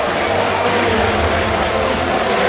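An arena audience at the IEM Katowice 2014 StarCraft 2 quarterfinal roars and applauds for the player herO, a loud, continuous crowd din with no pauses.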